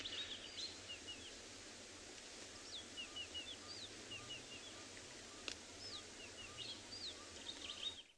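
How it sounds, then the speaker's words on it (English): Wild birds call at sunrise on a Tswalu safari, crested barbet among them: scattered high chirps and short whistled phrases recur throughout over a steady low rumble of background noise, fairly faint and distant, with no talking. "So lots of wonderful birds busy calling at the moment."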